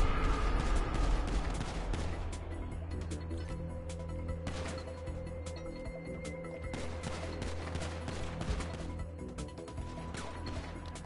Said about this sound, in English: Oh, he's got a gun.